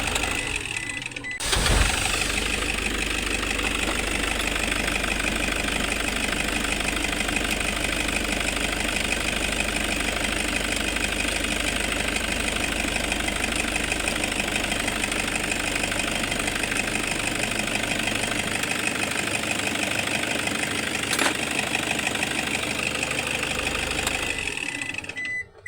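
A Toyota Hiace van with a hard-starting starter cranks briefly and catches near the start, then settles into a steady, even idle that runs close and constant for over twenty seconds before cutting off.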